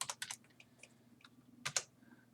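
Computer keyboard keys are tapped in a few quick clustered clicks, with scattered single presses between, close and quiet over a faint steady hum.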